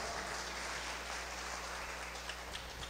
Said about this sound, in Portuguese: Vamos dar um aplauso ao Senhor pela vida do Gilvan. Bem forte esse aplauso.